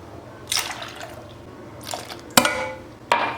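Liquid poured into a bowl for chocolate pudding, heard as several short splashing bursts with dripping between them, close and moderately loud, no talking.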